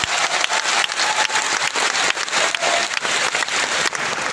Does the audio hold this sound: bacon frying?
no